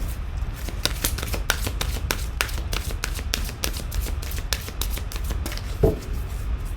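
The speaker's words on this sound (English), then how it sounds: "I'm going to pull one Romance Angel card." Romance Angel oracle cards being shuffled by hand, a quick run of crisp riffling flicks close up, ending with a single card pulled, with no talk.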